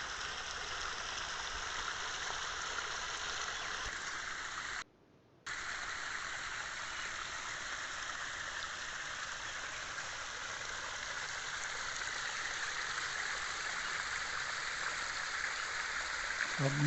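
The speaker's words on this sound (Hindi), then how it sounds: "बागों में ऐसी छोटी छोटी नदियां बह रही होती हैं।" A small artificial stream flows through a garden in the Gilgit-Baltistan style: a close, steady rushing trickle of water that runs continuously, with one brief dropout partway through and no voices.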